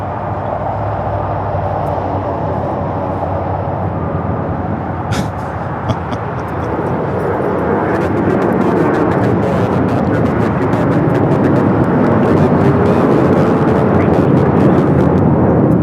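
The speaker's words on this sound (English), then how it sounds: "That is American Airlines 1687 taking off to Dallas-Fort Worth on the A321" An American Airlines Airbus A321 jet taking off at LAX, a steady broadband engine roar that builds and grows louder over several seconds with no voices.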